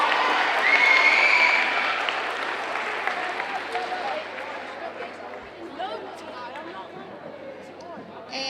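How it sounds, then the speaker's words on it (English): Applause for the baseball team at a seventh-grade school awards ceremony, a crowd clapping and cheering in a hall, strongest at first and then thinning into scattered claps and murmuring chatter. "Let's give a round of applause to our baseball team."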